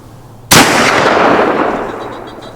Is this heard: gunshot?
yes